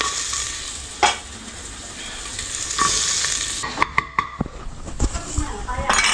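Onion frying with garlic in hot oil gives a loud, steady sizzle that fades partway through, followed by a run of sharp utensil clicks and knocks against the pan. Voices can be heard at moments.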